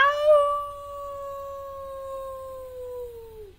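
A voice imitates a wolf howl: one long, clear sustained tone that rises briefly at the start, holds steady for over three seconds and then trails off, close and fairly loud.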